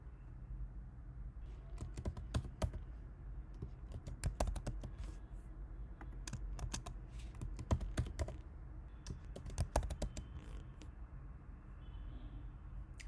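A password is typed on a computer keyboard as a steady run of quick, close key clicks with brief pauses, over a faint background hum.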